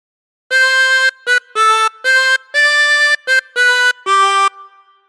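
Tremolo harmonica playing a phrase of All Through the Night: eight sustained, reedy notes with a wavering shimmer, short gaps between them, loud and alone, ending with a brief fade.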